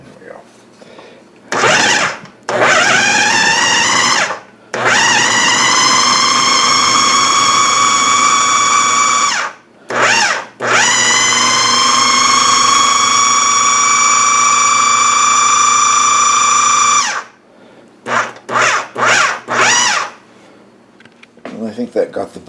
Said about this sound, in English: If I don't smash up the food processor